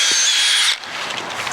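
A high-pitched drill whirs loudly for under a second drilling a tap hole into a maple tree, then stops, leaving a low rustle and faint background noise.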